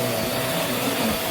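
A Vax Mach Air multi-cyclonic upright vacuum cleaner runs on carpet with a steady, loud, close whine and airy roar that holds level throughout without a break.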